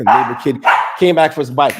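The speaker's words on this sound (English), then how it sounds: "my dog wants to bark and get crazy" A pet dog barks and yips several times in quick bursts, loud and close indoors, overlapping with someone speaking.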